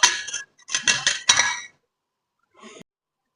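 A lid clatters onto a cooking pot holding eggplant and long beans in a Thai home kitchen: three quick metallic clinks close together, a pause, then one more brief clink.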